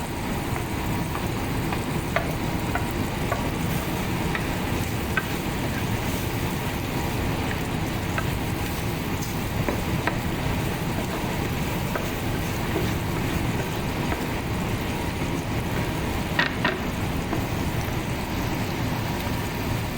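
Pakbet vegetables added to a hot pan and stirred, a continuous close sizzle and frying hiss that runs throughout with occasional faint clinks of utensils.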